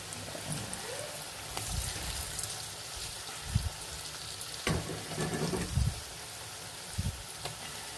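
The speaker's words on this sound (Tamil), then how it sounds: "இப்போ நாம் கட் பண்ணி வச்சுருக்க முட்டையை எடுத்து அப்படியே அதில் சேர்த்துக்கலாம்." Chopped boiled eggs dropped into sautéed masala in a pan, a soft steady sizzle with a few low thumps and stirring scrapes, fairly faint and without talk.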